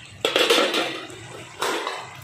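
A dal masher churns methi leaf and small potato curry in a cooking pot, making two close bursts of scraping, clattering contact against the pot, the first longer and the second shorter, over a low steady background.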